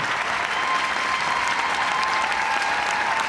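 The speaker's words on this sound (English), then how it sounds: "crowd goes wild." Crowd at the 2025 U.S. Figure Skating Championships ice dance rhythm dance cheering and applauding, a loud, steady wash of clapping and whoops filling the arena throughout.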